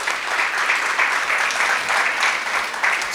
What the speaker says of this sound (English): Let's give Divakarana a big round of applause